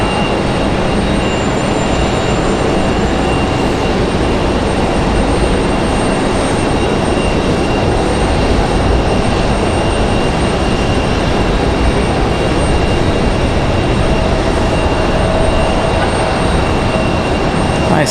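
Breeze Airways Airbus A220 taking off at Raleigh-Durham airport, a loud sustained engine roar with a thin high whine on top, steady and close across the whole stretch.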